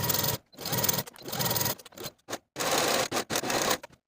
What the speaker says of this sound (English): Sew your center back seam with a 5/8 inch seam allowance and serge your seams to finish.